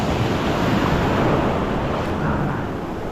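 Big ocean waves wash and roar in a continuous broadband rush, mixed with wind buffeting the microphone, loud and close for a few seconds with a slight easing toward the end.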